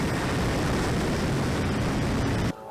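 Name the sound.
FMS CJ-6 radio-controlled model airplane flying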